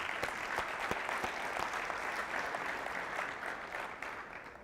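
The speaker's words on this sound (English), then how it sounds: "Let's give them a big round of applause." Sustained applause from a summit audience honoring former Heisman Trophy winners, dense steady clapping that fills the room at an even loudness throughout, with no talking over it.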